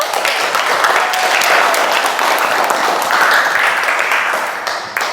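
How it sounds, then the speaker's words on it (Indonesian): Students in a chemistry classroom break into loud, continuous applause, a dense wash of many hands clapping close by that holds steady for several seconds before tapering at the end. "Oke, tepuk tangan dulu."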